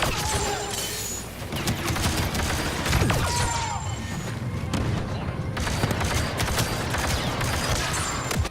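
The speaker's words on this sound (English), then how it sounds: "This gun is a burst weapon." Burst-fire blaster rifle from Star Wars Battlefront 2, officer class, firing repeated rapid bursts of sharp shots with booming impacts and explosions, continuous battlefield din over several seconds.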